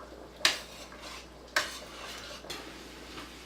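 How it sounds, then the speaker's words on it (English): A spoon stirring Sunday sauce with peppers and onions in a pot, three separate clinks and scrapes against the metal about a second apart, close and fairly quiet over a low steady background hum. "Now I'm going to just stir all this in."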